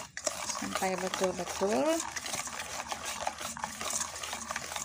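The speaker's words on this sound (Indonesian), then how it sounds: "Oke, kita kocok lagi ya" Sponge cake batter is whisked in a bowl with a steady, close scraping and swishing rhythm while someone talks over it.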